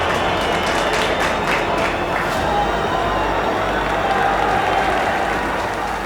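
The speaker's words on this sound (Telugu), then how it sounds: "మన సూరజ్ కోసం చప్పట్లు కొట్టండోయ్." A crowd on a Telugu farming show applauds steadily, with dense, loud clapping that stays even and unbroken throughout.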